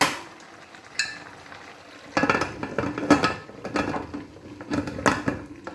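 A metal lid is set over a pan of kappa biryani, made with tapioca and bone-in meat, giving several close, sharp clanks and scraping rattles in irregular bursts against a quiet kitchen background, with no talking.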